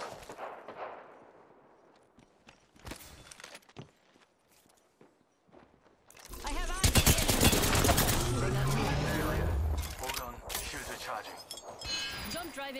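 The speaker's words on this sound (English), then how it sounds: "Getting shot at." Bursts of automatic gunfire and shots in an Apex Legends ranked match, sparse and distant at first, then a loud sustained fusillade with clinking and footsteps, voices talking over it.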